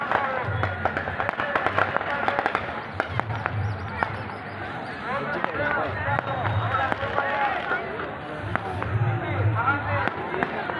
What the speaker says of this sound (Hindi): उधर पटाखे फोड़ रहे हैं